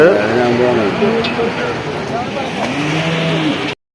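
Cattle, buffalo calves and bull calves at the busy Perumpilavu livestock market, a long low moo rising over a dense crowd of voices and traffic noise.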